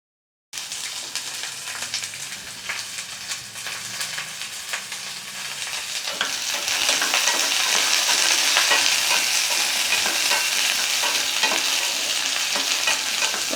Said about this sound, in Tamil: எண்ணெய் சூடானதும் 1 கப் அதாவது 200 கிராம் அளவுக்கு சின்ன வெங்காயத்தை உரிச்சு எடுத்துருக்கிறேன்.